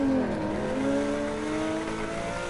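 A Porsche 911 flat-six boxer engine on a WRC10 rally stage in Kenya revs and shifts, pitch rising then dropping and climbing again, loud and continuous with no voices.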